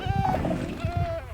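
Minecraft goat bleats in a rapid wavering run, fairly loud and close over game background noise, with a voice talking alongside.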